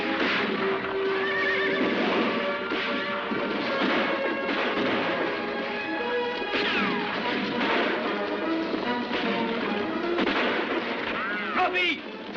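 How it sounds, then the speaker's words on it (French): Horses neigh and whinny amid galloping hoofbeats in a western film, set in a dense, busy mix with music and possible gunfire, loud throughout. "Allez, vite, tous à cheval!"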